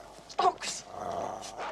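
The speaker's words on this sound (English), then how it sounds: "Dogs." Small dogs barking and growling indoors, a sharp yelp-like burst followed by a rougher snarl, close and moderately loud with a faint voice in the background.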